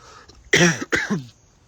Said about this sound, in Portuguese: De tosse.